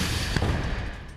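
A single sharp blast from an explosive detonated inside a house in war footage, followed by a brief rumbling tail. No voices.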